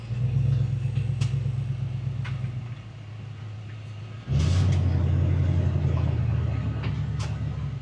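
A 1955 Chevy Bel-Air rumbles steadily while driving, with a low engine drone heard from inside the car that dips briefly and then swells louder again as it pulls away.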